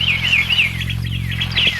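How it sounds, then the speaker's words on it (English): Mockingbirds sing in varied, looping whistled phrases over a steady low hum in Alabama, the melodic calls shifting pitch repeatedly and sounding fairly close. "These birds you're listening to are mockingbirds."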